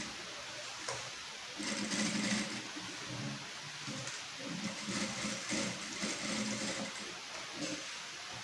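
A sewing machine stitches a border strip onto a blouse, running in quiet bursts of rapid, rhythmic needle clatter with short pauses between runs.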